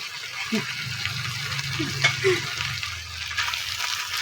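Ingredients sauté in a pan for a Filipino dish of grilled bamboo shoots with chicken and jute leaves, a steady sizzle and frying hiss with faint stirring and scraping, a couple of brief clinks, and no talk over it.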